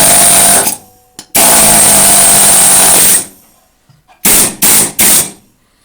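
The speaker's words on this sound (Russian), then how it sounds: "Так что вот такой вот отбойный молоток." An electric demolition hammer runs in loud, sustained hammering bursts, with one long burst and several shorter ones separated by brief pauses. The tool sounds close up in a workshop.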